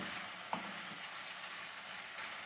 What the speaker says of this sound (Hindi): चिकन को हम तकरीबन 5 मिनट तक फ्राई करेंगे ताकि चिकन पे अच्छा सा कलर आ जाए